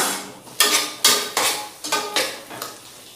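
A spoon clanks and scrapes against a metal pan while ginger and a ground fennel spice paste are stirred, giving about half a dozen distinct sharp strokes in an uneven rhythm, close and moderately loud.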